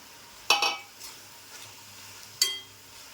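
Dried shrimp (jawla) being stir-fried in a pan, with two sharp utensil clinks and scrapes against the metal over a low, quiet background sizzle, no voices.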